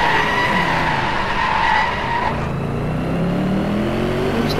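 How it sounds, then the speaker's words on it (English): A Hennessey Venom drifts, its tyres skidding in a loud, sustained squeal over a roaring engine, with the tone shifting partway through as the slide continues. "I'll just prove that this car is very good at drifting as well."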